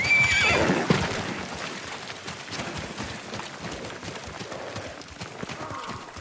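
A horse in the video game Ghost of Tsushima whinnies loudly at the start as its rider dismounts, followed by hoof clip-clops and rustling movement against an outdoor game ambience.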